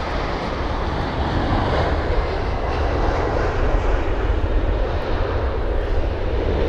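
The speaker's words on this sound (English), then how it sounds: "There is the Aero Mexico jet." An Aeromexico jet airliner landing at London Heathrow produces a loud, continuous broadband roar that holds steady throughout, with no voices.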